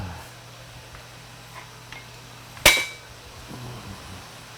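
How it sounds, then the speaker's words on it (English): A draw hammer strikes once while parts are being pulled from a lathe headstock. The single sharp metallic bang rings out briefly over a low hum in a quiet workshop. "I'm sure glad I got this draw hammer"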